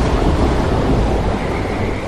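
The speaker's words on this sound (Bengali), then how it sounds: "গাছের পাতায় বৃষ্টি ফোঁটার শব্দ" Rain falls on tree leaves in a jungle as a dense, loud, unbroken hiss that holds steady throughout, with no voices.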